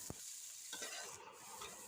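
Green chillies, chopped onion, mustard seeds and cumin fry in a little oil, giving a faint, steady sizzle with a soft stirring scrape near the start.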